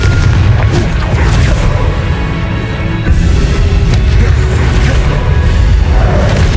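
Loud continuous booming blasts from the Confringo fire spell in the Hogwarts Legacy video game, a heavy low rumble with repeated explosive hits and a brief dip near the middle.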